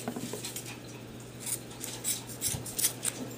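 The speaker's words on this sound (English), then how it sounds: "you're going to need a pair of very sharp scissors that will be able to cut fabric" Sharp fabric scissors snip through a fabric tag with a series of quick, light metallic clicks and cuts, close by and alone.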